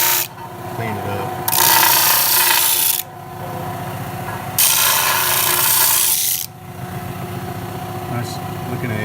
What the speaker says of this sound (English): I hit a lick on the sander.